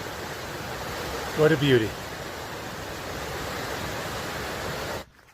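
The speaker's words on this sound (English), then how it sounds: "This one's pretty big. More of the mighty Kings River." Steady, loud rush of the big Kings River along the Pacific Crest Trail near Mather Pass, a continuous wash of water noise that a man's brief exclamation cuts across before the sound stops abruptly at the end.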